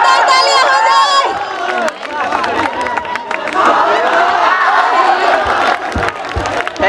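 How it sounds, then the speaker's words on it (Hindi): Audience at a college farewell party claps and cheers loudly, a crowded burst of whoops and rapid clapping following a voice at the start, with shouting and babble throughout. "जोरदार तालियां हो जाए।"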